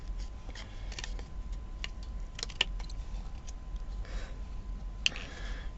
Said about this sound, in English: Sticky scissors too.